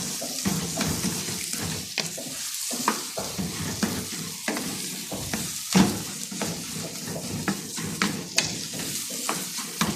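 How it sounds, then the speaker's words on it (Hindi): Suji halwa with dry fruit is stirred in a hot pan, with a spoon scraping and clacking in frequent irregular strokes over a continuous sizzle, close and moderately loud. "तो अच्छी तरीके से मिक्स कर लें।"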